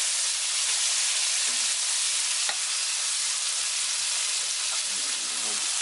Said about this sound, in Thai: แล้วมาผัดหอมๆเลยครับ